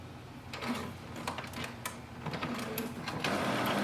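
An Epson WF3820 inkjet printer powers up after its power cable is plugged in, giving off a steady run of mechanical whirring and rapid ticking that builds slightly toward the end, with no voices.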